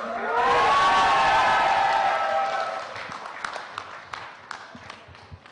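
An audience cheers and whoops loudly at the Honor Play live launch event in India, a full crowd roar that swells early and then fades into scattered claps and calls.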